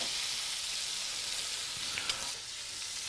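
Pork pieces braising in a hot pan give off a steady, close sizzle and crackle that holds fairly even throughout, with a brief louder pop near the end and no talking.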